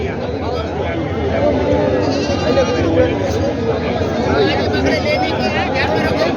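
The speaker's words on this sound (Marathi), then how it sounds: "चांगल्या क्वालिटी शेळ्या आणलेल्या आहेत बाजारामध्ये" Goats bleat repeatedly amid a busy crowd at a goat market in Parbhani, India, their wavering cries rising over constant chatter and nearby talking.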